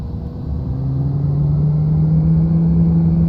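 A TBM900 turboprop spools up in the X-Plane 11 flight simulator, a steady loud droning hum whose tone climbs gradually as power is eased up, continuous throughout with no voices.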